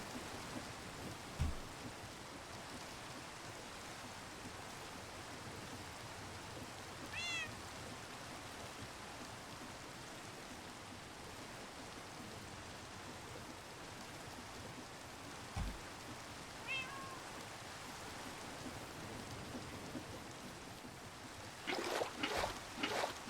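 Pet cat Penny meows a few times, short and faint, spread over a steady patter of rain with a low rumble of thunder in the background.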